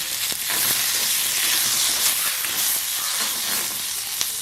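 Mustard seeds and onions fry in hot oil, giving a continuous hissing sizzle with scattered sharp pops and crackles, close by and moderately loud, with a few faint stirring sounds and no voices.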